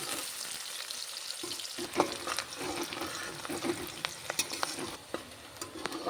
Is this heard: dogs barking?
no